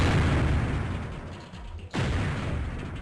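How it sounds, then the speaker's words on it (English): A loud booming explosion in a Davilex video game, a sharp burst that fades into rumbling noise before a second heavy blast erupts and sustains, no talk. "It's quite an impressive explosion."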